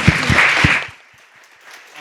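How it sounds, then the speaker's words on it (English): A short burst of audience applause for the panelists at a festival discussion, a few loud claps that fade quickly into near silence. "So one last round of applause"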